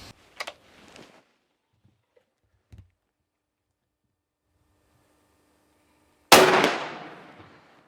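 A single loud rifle shot is fired while a hunting rifle is sighted in for a buffalo hunt, a sharp close crack followed by a long fading outdoor echo after a few quiet seconds of light handling noises.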